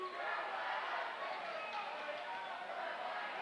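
A student cheer block at a high school boys' basketball game yelling at a free throw shooter, a loud, continuous mass of crowd voices filling the gym.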